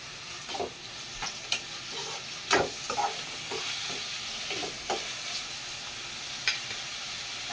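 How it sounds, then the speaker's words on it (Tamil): Raw banana kola balls fry in a pan for a tomato and coriander gravy, giving a steady broadband sizzle broken by a few sharp stirring scrapes and clicks, close by with no talking. "உருண்டை இந்த பக்கம் வெந்துக்கிட்டு இருக்கு"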